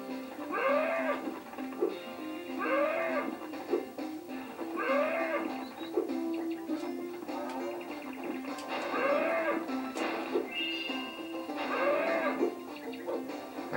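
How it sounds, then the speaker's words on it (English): Cows in the Spyro 2 video game giving a series of about six short, evenly spaced moos, each a brief rising-falling call, over a quiet steady background with no talk. "Worry about the cows first."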